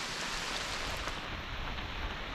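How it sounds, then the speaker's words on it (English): Rain falls steadily on a mountain section of the Appalachian Trail, a dense, even hiss that holds at the same level throughout with no voices. "this rain's definitely not helping"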